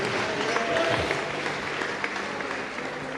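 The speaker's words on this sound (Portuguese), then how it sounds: "aplauda o Rei Jesus e tome o seu assento." Church congregation applauding at a Brazilian evangelical service, steady dense clapping with crowd noise filling the hall throughout, fairly loud and continuous.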